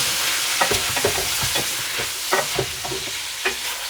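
Pork frying in its own rendered fat, with a loud close sizzle broken by sharp pops and spatula scrapes in quick irregular bursts.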